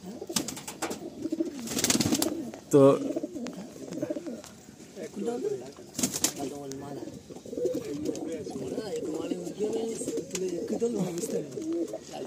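Madrasi pigeons in a loft coo in low, rolling bursts under steady nearby talk, with a louder flurry of wing flaps and a brief clear call partway through.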